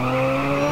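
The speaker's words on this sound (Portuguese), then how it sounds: "Sempre queimando o pneu." Car tires screeching and burning rubber in GTA San Andreas, a brief, loud, sustained squeal with engine drone underneath and no voices.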